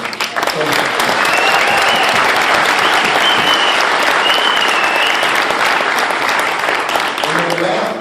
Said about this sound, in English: So let's give a round of applause for her.